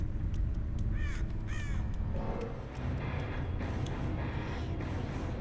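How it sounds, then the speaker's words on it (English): Several crows caw from the Dead by Daylight game world, harsh repeated calls in short bursts over a steady, loud ambient drone with no talking. "The devs didn't think about where these crows are going, by the way."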